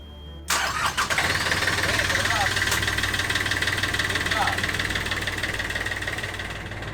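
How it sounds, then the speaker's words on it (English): Boat engines that have been running for about half an hour drone steadily with a loud, even hum and a high whine, starting abruptly after a quiet moment and continuing without a break. "The engines have been running now for maybe a half hour."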